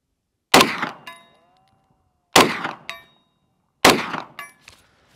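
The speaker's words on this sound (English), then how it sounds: "shooting the five inch Strebog A3S" A Grand Power Stribog SP9A3S with a five-inch barrel fires three spaced shots at a steel target about 100 yards away. Each sharp report is followed quickly by a ringing metallic clang.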